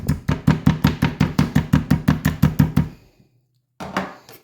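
Steaks being pounded to tenderize them, a rapid run of about fourteen evenly spaced heavy knocks close by, then a short pause and one or two more thuds.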